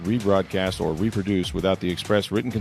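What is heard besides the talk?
None of the usual background noises is heard.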